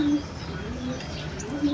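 Racing pigeons in a loft, soft low cooing calls repeating a few times close by over a faint background hum.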